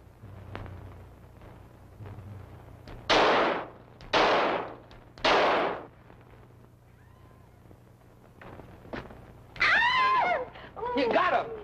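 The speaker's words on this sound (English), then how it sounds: "All right, Herbie, show him how we shoot." Gunfire in a 1943 comedy film: three loud, evenly spaced blasts stand out clearly, followed by some clicks and brief vocal cries.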